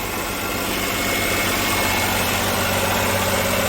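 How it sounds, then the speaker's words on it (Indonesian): Steady, close-up drone of a used car's engine idling, a smooth continuous hum with even vibration and no speech. "Coba kita nyalakan untuk suara mesinnya seperti apa. Ini mesinnya udah hidup."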